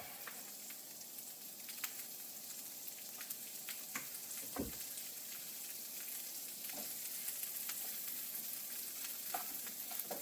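Onion frying in oil in a pan for egg foo young, a steady soft sizzle with occasional crackles and stirring scrapes, close and continuous.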